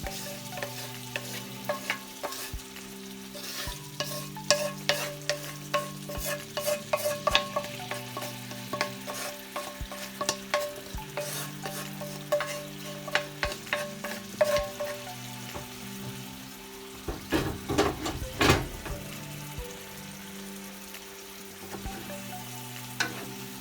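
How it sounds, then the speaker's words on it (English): Rice fries in a hot pan, a constant sizzle broken by repeated scraping and stirring strokes, busiest near the end, with no voices. "now we're gonna put the heat on high"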